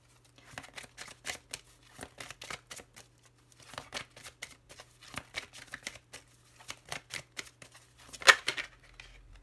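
Oracle cards being shuffled by hand before one is drawn: a series of quick papery riffles and slaps in irregular bursts, close and clear, with no talk.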